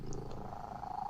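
A cat purrs up close in the morning, a soft continuous rumbling hum that stays steady and low throughout the short moment.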